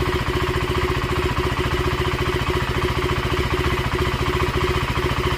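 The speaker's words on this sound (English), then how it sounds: "let's go ahead and start the bike" A 2025 KTM Enduro R motorcycle engine runs at a steady idle, a loud, close, even putter with a regular low thump throughout and no talk over it.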